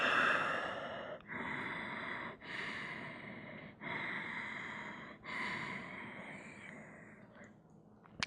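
Slow, deep breathing during a yoga stretch for sore leg muscles: about six long airy breaths in a steady rhythm, each broken by a brief pause, close to the microphone, no talking.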